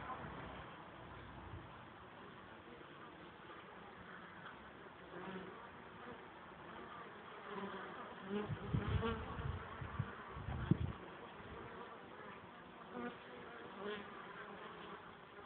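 Honeybees fly at a hive entrance with a continuous soft buzzing drone, rising briefly as insects pass close; low, muffled background throughout.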